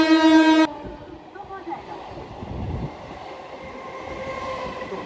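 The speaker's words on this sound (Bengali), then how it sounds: "কথা বলতে বলতে পাশ দিয়ে একটা ট্রেন ঢুকে গেছে, আর ট্রেনের এত আওয়াজ" Train passing by at Madanpur railway station, a steady broadband rumble of rail cars that starts after a brief horn-like tone and continues under faint background talk.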